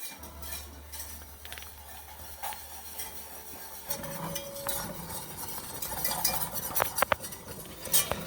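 A clanky metal whisk clinks and taps against a bowl while stirring a mixture, quiet irregular clattering that grows busier toward the end, with no speech.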